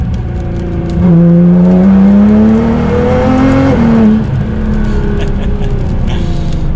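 A sports car pulls a rolling launch in third gear from just above 3,000 RPM, the engine note jumping to a loud, steady rising roar that climbs for several seconds before easing off, close to the microphone.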